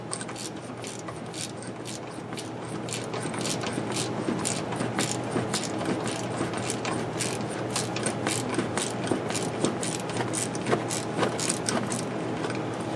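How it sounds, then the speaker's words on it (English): Rapid clicking of a 13 mm ratchet wrench loosening a bolt during front wheel hub work on a 2003 GMC Jimmy, a steady run of close, sharp ratchet ticks over low shop noise, with no talking. "I've got a 13 millimeter ratchet wrench. The bolt's coming right loose without any issues."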